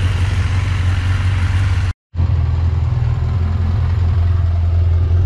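Steady, close idle of a Yamaha XJ900 Diversion motorcycle after carburetor and valve servicing, a low even rumble with slight clatter, broken by a brief dropout before resuming unchanged.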